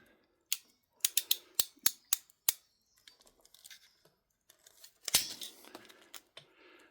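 Crimping tool squeezing a connector onto the end of a CAT 6 cable, a series of sharp, close clicks in quick succession, then softer handling rustles and one more loud crunch near the end.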